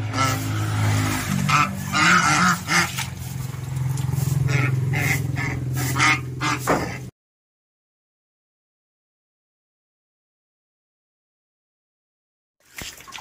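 Ducks bathing and honking on a farm in hot weather, calling loudly and repeatedly up close for about seven seconds before the sound cuts to near silence.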